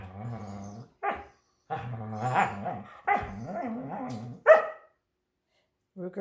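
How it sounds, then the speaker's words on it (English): A beagle gives short bursts of barks, yelps and growly whines during play, loud and close, with pauses of silence between the outbursts. "He barks a little bit."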